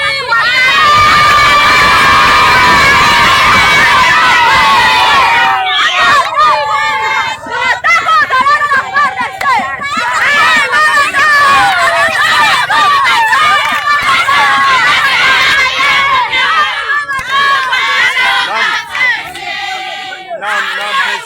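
A large crowd of townspeople in Sange, in the Ruzizi valley, cheers and shouts loudly as the national army arrives, with dense overlapping voices, whistles and excited yelling filling the whole stretch.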